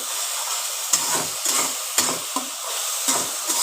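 Spice paste of coriander and cumin powder being stir-fried in a pan for whole potol chochchori, a steady close sizzle broken by a handful of scraping stirs, with no talking.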